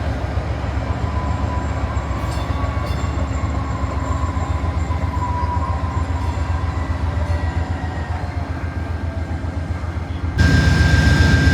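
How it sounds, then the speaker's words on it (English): An Amtrak Texas Eagle passenger train arriving at a station in Texas rumbles steadily and loudly nearby, with a low engine drone and rhythmic rail clatter, swelling brighter near the end. "Here's another train coming into the station."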